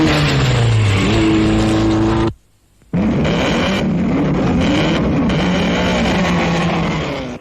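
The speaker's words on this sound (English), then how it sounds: "Their secret is supercharging, and it is the first appearance of supercharged cars in the Grand Prix." 1920s supercharged Fiat Grand Prix racing cars roar loudly, engines revving and shifting pitch in sustained bursts, broken by a brief silent cut before another car drones past.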